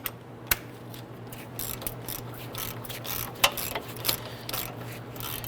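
Wrench or ratchet clicks while bolts on a Nissan Quest front wheel hub assembly are snugged down, with a string of quick sharp ticks and short ratcheting bursts close by over a steady low hum, without any talking.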